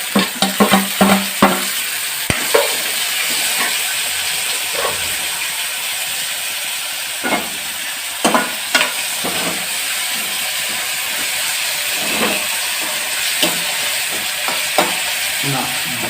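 Tomatoes and Maggi noodle masala roasting in a pan, a continuous loud hiss and sizzle with scattered spoon scrapes and clicks, heaviest at the start, no speech.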